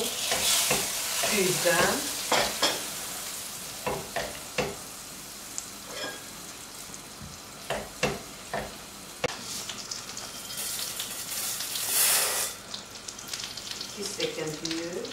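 Butter melting in a pot and being stirred, a bubbling sizzle under repeated scraping and knocking of a utensil, with a brief spoken word and rushes of louder hiss in places.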